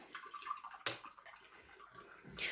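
Water splashes and pours into jars of gherkin pickles being packed at home, with a bright splashy burst near the start and another toward the end, fairly close and moderately loud, with no talk.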